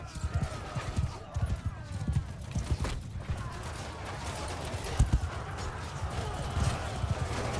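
Horses gallop in a Mount & Blade II: Bannerlord battle, a dense, rapid clatter of hoofbeats with scattered clanks and creaks of combat, fairly close and continuous.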